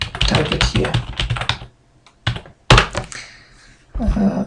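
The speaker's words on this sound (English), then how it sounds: "I just copy the IP address from my port 1 and type it here." Fast, close bursts of typing on a computer keyboard as an IP address is entered during a Fortigate firewall setup, with clustered clicks, short pauses and a final flurry of keystrokes.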